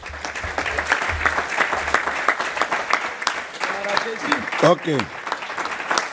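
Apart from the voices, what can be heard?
congregation applauding in church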